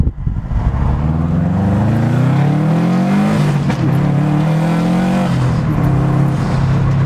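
A Subaru WRX STi engine revs up steadily and loudly from inside the car, its pitch climbing through a long pull, easing briefly, then rising again before settling.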